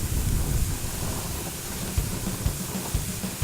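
Gusty wind buffets the microphone outdoors at a hot Fourth of July grill, a low roaring rumble with a few thumping gusts.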